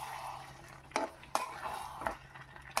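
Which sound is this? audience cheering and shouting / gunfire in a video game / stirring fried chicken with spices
stirring fried chicken with spices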